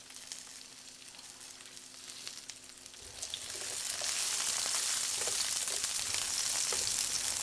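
Herb-seasoned pork chops frying in a pan, a steady sizzle that grows louder and brighter partway through and then stays constant with no talking.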